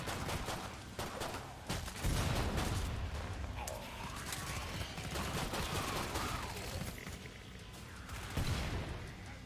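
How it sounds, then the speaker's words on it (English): Gunfire in Killing Floor 2, sustained volleys of rapid shots with occasional heavier booms, steady and dense at moderate level throughout. "Nice shooting"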